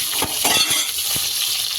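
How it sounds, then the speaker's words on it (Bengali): Hot oil hissing and sizzling steadily as potatoes fry, with a few soft stirring knocks against the pan close by. "আলু ছেড়ে দিচ্ছি আলুগুলো লাল লাল করে ভাজা হবে"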